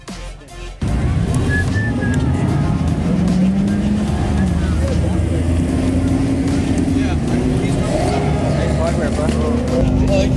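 Car engines at an evening car meet, a continuous loud motor rumble with revving and shifting pitch throughout, cutting in sharply after a brief quieter opening.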